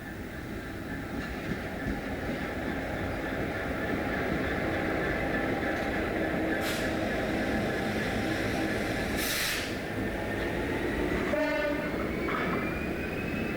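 A pair of Class 66 diesel locomotives hauls a freight train on the Highland Main Line, a steady loud rumble and hiss filling the whole stretch, with a few brief horn-like tones near the end.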